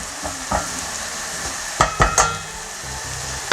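Dorade fish frying in a pot over steady heat, a continuous crackling sizzle with a few louder pops and stirring clinks, close and alone.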